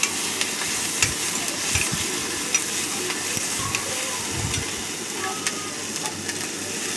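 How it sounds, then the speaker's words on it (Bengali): Ground dried fish paste sizzles in hot oil in a wok. A spoon scrapes and stirs it in irregular knocks over a constant frying hiss. "এবার শুটকি মাছ বাটাটা কড়াইয়ে দিয়ে দিলাম, ভালো করে নাড়াচাড়া করে নিচ্ছি।"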